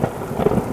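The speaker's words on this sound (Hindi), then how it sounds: "बाहर तेज बारिश हो रही है" Cartoon-style effect of heavy rain with rumbling thunder, a dense steady wash of rain under a low, continuous rumble, brief and fairly loud with no voices.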